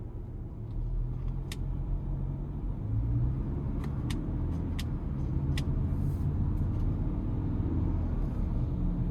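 Steady low engine rumble of a 2025 Ford Ranger XLT FX4 pickup with a 2.3 turbo and 10-speed automatic driving in traffic, with a few faint high ticks and squeaks over constant road noise.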